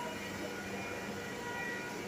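An AC local suburban train runs on the Sealdah line, heard from inside the first coach as a steady broadband rumble and hiss with no voices.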